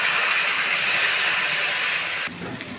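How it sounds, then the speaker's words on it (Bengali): Cumin seeds and a bay leaf hit hot oil in a pan, a loud hissing sizzle that runs steady up close, then drops suddenly to a quieter crackle near the end. "এবার একই তেলের ওপর আমি জিরে ফোড়ন দিয়ে দেব, তেজপাতা।"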